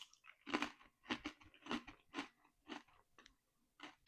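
Crunchy homemade sourdough starter crackers, one piece deliberately overcooked, bitten and chewed close to the mic in a run of sharp crisp crunches, about eight bursts over four seconds with short pauses between.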